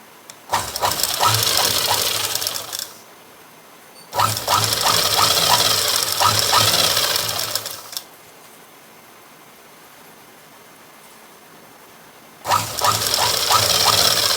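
Sewing machine stitching a folded blouse back strip in three bursts of fast, loud mechanical whirring, each running about three to four seconds, with quiet pauses in between.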